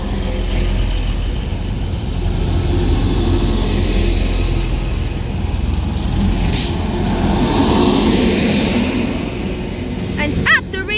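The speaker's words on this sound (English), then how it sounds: "now arriving in is going to be a Transpennine Express service to Liverpool Lime Street from Scunthorpe with a double 185 for Transpennine Express." A double Transpennine Express class 185 diesel train arrives at Birchwood station with a loud, steady low engine rumble and rolling noise close by, with a brief high squeal near the end.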